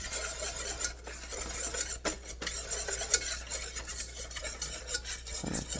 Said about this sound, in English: Whisk. One of my favorite tools, and we'll whisk it up.